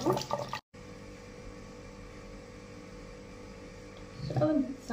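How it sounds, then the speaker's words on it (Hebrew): Water running steadily onto hair during a styling routine, a continuous even wash of sound lasting several seconds, bracketed by brief bursts of nearby movement and noise at either end. "אז קודם כל אני שמה מים"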